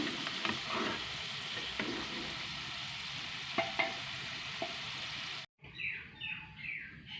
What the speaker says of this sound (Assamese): এতিয়া মই পিঁয়াজ দি দিছোঁ যে।